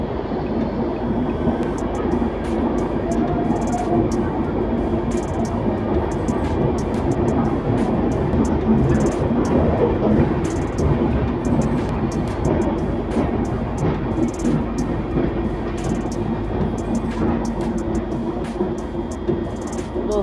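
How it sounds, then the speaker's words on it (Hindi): The Jan Sadharan Express to Muzaffarpur Junction pulls out of an Indian railway station after a five-minute halt. A steady, continuous rumble and rattle of rolling coaches fills the whole stretch, with no voices. "5 मिनट हॉल्ट के बाद निकल चुकी अपनी जन साधारण एक्सप्रेस अपनी मुजफ्फरपुर जंक्शन के लिए।"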